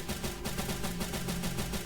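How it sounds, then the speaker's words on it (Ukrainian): Rapid gunfire crackles continuously, dense and fairly loud, like automatic weapons firing in a busy battle in the video game Stalcraft. "Стріляю."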